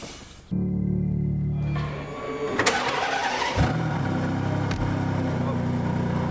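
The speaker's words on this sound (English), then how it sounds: "Big start button to fire up that uh, 6 litre V12, which I can see in the rear view mirror." A Ferrari Enzo's 6-litre V12 is cranked by the starter, then fires and settles into a loud, steady, close rumble heard from inside the cabin.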